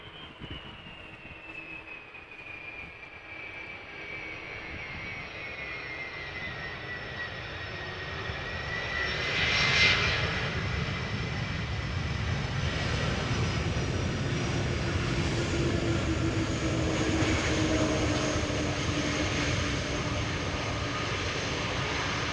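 Jet airliner at Amsterdam Schiphol Airport, a long steady engine roar with a whining tone that slowly shifts pitch and swells louder midway as it passes, heard from a distance.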